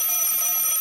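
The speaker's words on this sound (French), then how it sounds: "Et ça un réveil, c'est logique." A mechanical alarm clock rings in a continuous, bright metallic jangle, loud and close, unbroken for the whole short burst with no voices.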